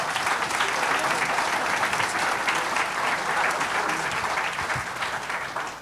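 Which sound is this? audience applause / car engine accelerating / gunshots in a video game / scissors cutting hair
audience applause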